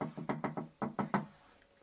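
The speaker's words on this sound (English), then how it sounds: "Knock on wood." Seven sharp knocks of a fist on wood, in a quick run of four, a short pause, then three more, close and loud, followed by quiet.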